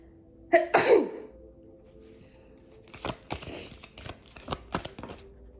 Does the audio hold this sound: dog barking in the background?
no